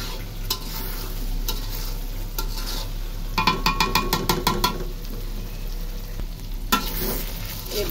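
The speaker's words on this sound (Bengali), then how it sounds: "এই তেল দিয়ে কিন্তু পুরোটা মাংস ভাজা ভাজা হবে।" Meat sizzling in the fat it has rendered, a close steady frying hiss broken by bursts of rapid spatula scrapes and clinks against the pot.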